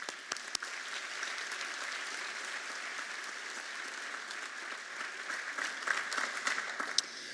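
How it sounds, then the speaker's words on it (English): Steady, dense applause from a commencement audience for an architecture and design school award recipient, filling the space evenly for several seconds with a few sharper claps standing out near the start. "If we could have a round of applause for him"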